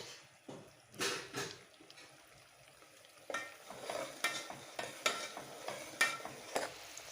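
Something frying gently in a pan, the quiet sizzle broken by repeated stirring scrapes and clinks that come in bursts, louder and more regular in the second half.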